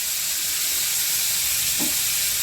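Four dry red chillies sizzling in hot oil while cooking a Bengali prawn and rui fish cauliflower vorta, a loud, steady, close frying hiss that runs unbroken throughout.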